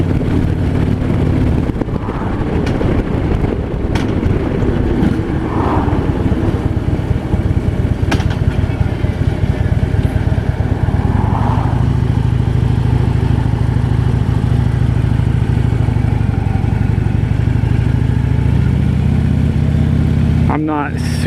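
A 2015 Harley-Davidson FLHTP motorcycle on a test ride, its engine a steady loud rumble with wind noise throughout, and a rider talking over it.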